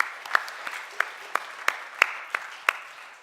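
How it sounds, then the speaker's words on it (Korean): A church congregation claps together in a steady rhythm, about nine evenly spaced claps landing in unison, with faint room noise between them. "우리 박수 한번 하겠습니다."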